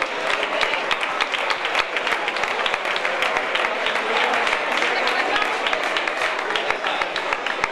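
A crowd gives a steady round of applause at the awards podium of a city half marathon, honoring a runner of nearly 65, with dense clapping that holds close and loud throughout.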